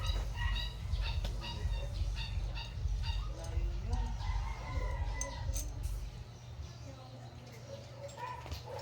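Live chickens squawk and cluck in repeated bursts over a constant low rumble, with a dog barking and voices in the background, during a Philippine amulet test.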